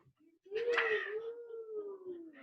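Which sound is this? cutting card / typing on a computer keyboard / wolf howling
wolf howling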